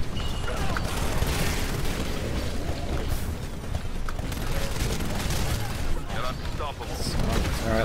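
SMG fire in the first-person shooter Titanfall on PC, rapid bursts layered over a busy, loud battlefield of explosions and machinery, with a voice talking over the action.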